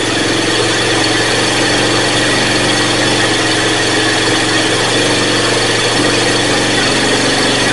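A small three-wheeler engine, revived after sitting unused for at least 15 years and running low on fuel, idles steadily and continuously, a close, even mechanical drone with no voices.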